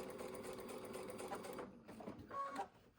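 A sewing machine runs steadily, stitching slowly along a curved fabric seam with the presser foot guiding the edge, then pauses briefly and resumes for a short burst near the end.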